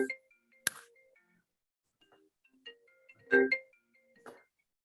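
A phone in a Hawaii Land Use Commission meeting gives short bright electronic chimes and beeps in scattered bursts, fairly clear against a quiet room with no talk.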